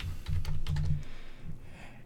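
Keys clack on a computer keyboard as a short preset name is typed, with a quick burst of close taps followed by a softer tail, and no one talking.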